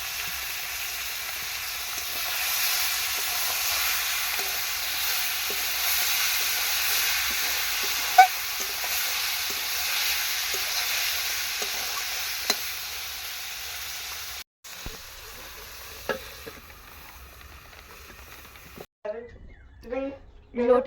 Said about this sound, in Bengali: এবার মাছটা দিয়ে দিলাম, আস্তে আস্তে হয়ে যাবে।